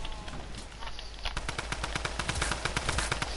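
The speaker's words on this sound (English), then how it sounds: "Drum gun! Yes! Drum gun and pump!" A drum gun firing in a Fortnite-style shooter game, a rapid burst of evenly spaced shots that starts about a second in and rattles on steadily to the end over faint background noise.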